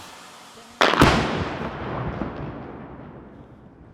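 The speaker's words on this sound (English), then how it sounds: "Just first a few gunshots." Two sharp, loud gunshots in quick succession in a park in the Donbas, Ukraine, each ringing out and echoing away across open space, fired some distance off.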